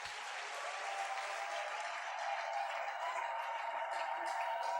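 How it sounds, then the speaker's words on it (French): A church congregation at a Sunday service claps and cheers in a steady, even wash of applause, moderately distant and unbroken for several seconds. "acclamons Jésus qui est très très fort"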